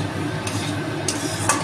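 Ground spices (cumin, coriander and Kashmiri chilli powder) being sautéed in a pan for a pointed gourd and prawn dish: a steady, soft close sizzle with a few light scraping stirs and no talk.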